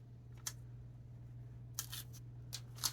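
Scissors cut paper for a glue book, a few short, crisp snips spaced apart over a low steady hum, close and fairly quiet.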